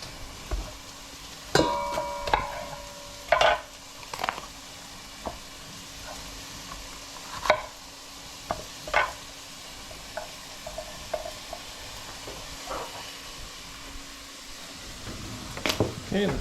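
Onions and peppers frying in a pan for Hungarian meatballs as a spoon stirs them, soft sizzling with scattered scrapes and knocks against the pan, fairly quiet, with occasional background sound between stirs.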